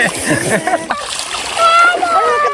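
Water splashes and sloshes in a village pond as someone dives and swims, with children's and adults' voices talking over the choppy splashing nearby.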